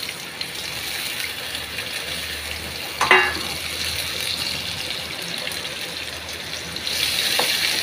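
Steady, close sizzling of okra frying in oil with cumin, mustard seeds and asafoetida, with a brief clatter midway and a louder surge near the end.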